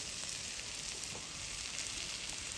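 Chopped onion and tomato with turmeric powder fry in a pan for a masala pasta, a steady, close, dense sizzle with faint stirring crackles and no talk.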